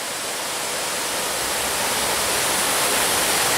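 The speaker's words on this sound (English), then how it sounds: "I'm not sure if you can hear me because of the water, because it is kind of loud" Loud rushing water beside an abandoned sawmill roars as a steady, broadband wash like a waterfall, close and continuous and slightly swelling, with no speech.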